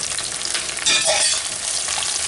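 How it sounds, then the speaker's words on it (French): Aubergine frying in a generous amount of oil in a pan while being stirred, a steady broadband sizzle that swells louder partway through as the pieces are turned, close and continuous with no talk. "je rajoute de l'huile généreusement, on n'a pas le choix pour faire frire l'aubergine"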